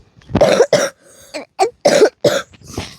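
A child coughs several times in quick bursts, close and loud, with short pauses between the harsh coughs.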